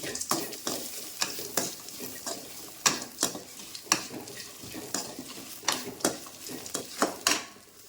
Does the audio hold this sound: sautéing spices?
yes